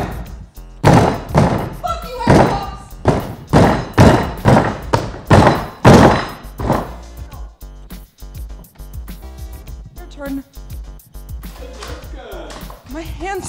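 Boxing gloves pound a hard plastic Pelican case in a series of loud, heavy thuds, about a dozen blows in quick succession, followed by people talking and laughing.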